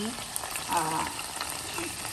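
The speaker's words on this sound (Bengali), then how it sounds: "আমি এটাকে ফ্লিপ করে এখন আরেকটা পাশ ভেজে দিব" Lamb sizzles steadily in a hot pan, a continuous crackling fry with a faint voice now and then underneath.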